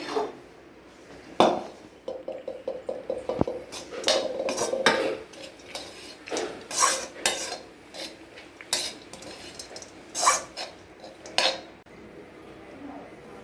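A spoon stirs cooked rice into mango seasoning in a pan taken off the stove, making repeated close scrapes and metallic clinks in an uneven rhythm with short pauses between strokes.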